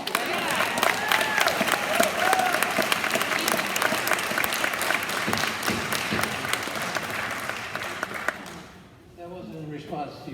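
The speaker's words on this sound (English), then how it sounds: "That wasn't in response to your applause." Sustained audience applause fills a township planning commission public hearing, loud and steady with dense clapping and scattered voices, then cuts off abruptly near the end as a voice begins speaking.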